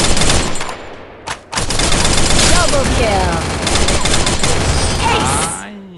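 Rapid video-game gunfire rattles almost continuously in dense automatic bursts, loud and close, with a brief lull and voices briefly heard between shots.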